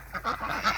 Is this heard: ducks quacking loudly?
yes